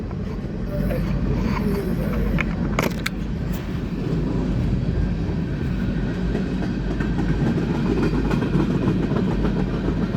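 A steady train rumble with faint rhythmic clacking of wheels on rails, continuous and fairly loud throughout, as if heard from inside a carriage.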